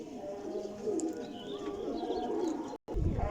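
Old Kasuri pigeons, large birds, cooing in a continuous soft rolling drone close by, with a brief dropout near the end and a light knock afterward.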